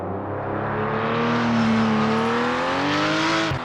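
A race car engine in the video game Project Motor Racing, heard from outside, drones and slowly rises in pitch, steady and fairly loud, then cuts off abruptly near the end.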